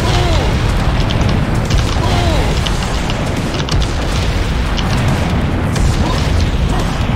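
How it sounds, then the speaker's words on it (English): Rocket fire in the game Bloodsugar comes through as loud, dense explosive booming that fills the whole stretch with a heavy, continuous rumble and faint mechanical clicks. "He fires a three-round burst."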